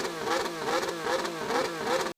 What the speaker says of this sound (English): The little, the gurgling that you can hear when it lifts off the throttle.